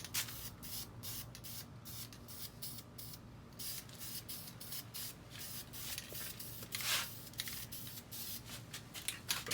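Spray painting car wheels with DupliColor wheel paint, aerosol can held 8 to 10 inches away: steady hissing bursts with short gaps between passes, fairly close and continuous throughout.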